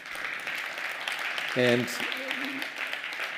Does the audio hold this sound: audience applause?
yes